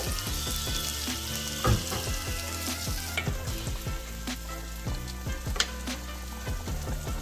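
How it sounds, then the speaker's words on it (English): Dangar, shrimp cakes, fry in a pan with a steady, close sizzling hiss and a few soft clinks, heard alone under a faint background music-like hum. "Listen to the dangar sizzling, guys."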